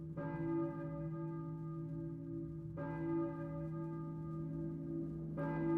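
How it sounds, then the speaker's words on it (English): A church bell tolls in a video game, three deep, ringing strikes spaced a few seconds apart, each sustaining and fading slowly over a faint, steady background. "I hear a church bell, maybe? Who's ringing the bell?"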